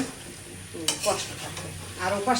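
Meat and potatoes stirred together in a hot pan, a steady sizzle of frying broken by scraping spatula strokes that grow busier toward the end, close and fairly loud with no talking.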